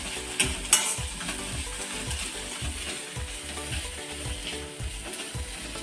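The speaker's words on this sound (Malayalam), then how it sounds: "ഈ പച്ചമുളക് അതിൻ്റെ പച്ചമണം പോട്ട് നല്ല വാടിയിട്ട് പച്ചമണം പോകണം" Green chilies with crushed ginger and garlic sautéing in a pan, a continuous bright sizzle with rhythmic stirring scrapes repeating throughout, close and fairly loud.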